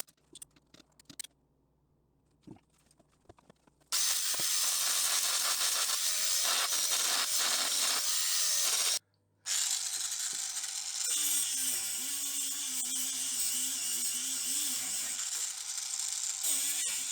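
MIG-style welding on the underside of a car's rear jacking point patch: a loud continuous crackling buzz runs about five seconds, stops briefly, then resumes steadily, after some quiet clicks and shuffling at the start.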